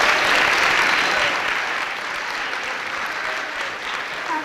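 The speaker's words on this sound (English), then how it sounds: "Let's give them a round of applause for Los Comandos." Audience applause fills the room at an elementary school pep rally, a steady broadband wash of clapping hands that stays loud and even throughout, with no talking over it.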